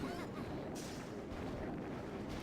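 In the video game Mega Crab 6, a cannon fires in heavy booming blasts, with a couple of sharper bursts standing out above a continuous thick wash of battle noise.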